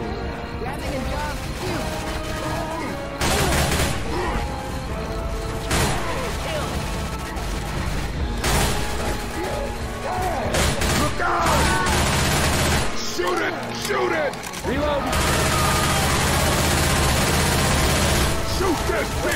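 Bursts of rapid gunfire from Left 4 Dead 2 rattle loud and close in several dense volleys, with short lulls between them, as players shout under the shooting.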